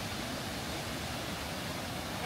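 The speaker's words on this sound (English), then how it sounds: "At the Tortum Waterfall." Rushing water at Tortum Waterfall in Turkey: a dense, steady broadband roar with no breaks, heard alone.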